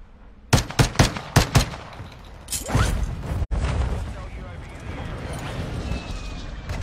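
Five quick, loud video-game gunshots in a rapid burst, followed by a mechanical whoosh and a sustained rumbling mix of game effects, with talk in the background.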